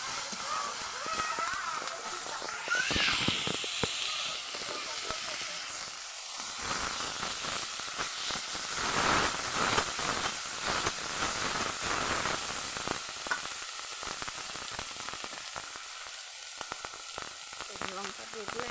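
Spices and onion paste, along with tomato, frying in a pan for a spicy curry make a steady, fairly loud sizzle and hiss that runs throughout, with a voice talking over it at times.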